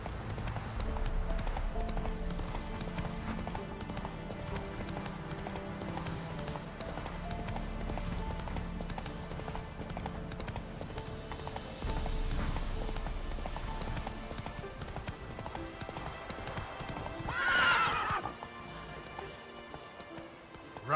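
Geralt's horse Roach gallops in The Witcher 3, a continuous quick clip-clop of hooves mixed with game music and ambient sound, followed by a brief whinny near the end.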